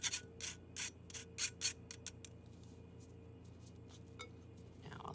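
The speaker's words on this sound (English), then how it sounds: "I'll sift in 1/4 cup of cocoa powder" Cocoa powder sifted through a sieve into chocolate orange tart batter, giving a series of soft, rhythmic shaking and rubbing bursts, close and fairly quiet, with no talking.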